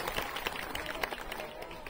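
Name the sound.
audience applause for the speaker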